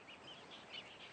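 Faint, distant calls of wading birds carry over the wintry intertidal sand and mudflats of Traeth Lafan in North Wales, soft repeated chirps against a quiet open background.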